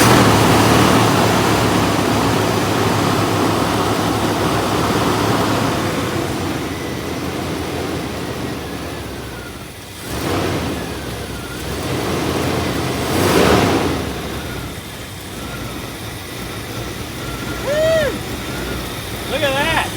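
A 1962 Ford Thunderbird V8 fitted with an Edelbrock 1406 carburetor and Pertronix ignition cranks and fires up, rumbling loudly before settling into a rough idle with a few revs, while people talk close by.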